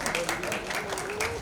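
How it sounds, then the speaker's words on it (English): Audience applauding at a music video launch event, a brief burst of clapping with a voice speaking over it. "जरा जोरदार तालियां बजाएं इनके लिए"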